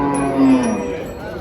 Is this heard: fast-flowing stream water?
no